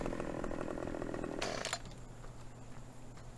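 A chainsaw buzzes loudly while cutting palm trees in Farming Simulator 17 Platinum, then cuts off abruptly with a brief crackle of falling wood, leaving a quieter background hum.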